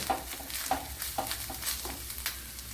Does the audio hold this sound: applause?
no